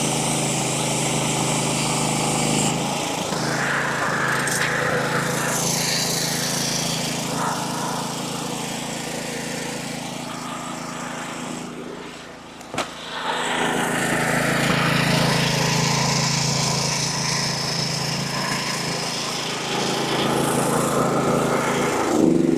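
A sawmill's gas engine drones loudly and continuously while the blade cuts a quarter sawn red oak log, the pitch shifting slightly under load, with a brief dip and knock midway.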